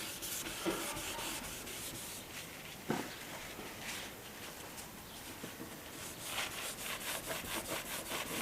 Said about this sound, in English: And just wipe the excess off.